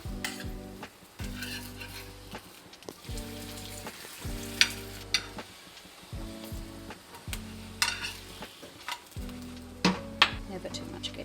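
Keema paratha, an Indian minced-meat flatbread, sizzles in plenty of ghee on a pan, a soft continuous hiss with occasional utensil knocks beneath steady background music.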